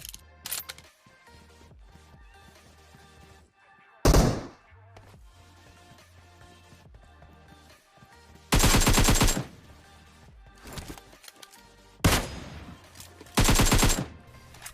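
Mobile battle-royale gunfire from PUBG Mobile as a bot is killed: several loud bursts of rapid automatic shots and single heavy reports break out between quieter stretches of game sounds and footsteps.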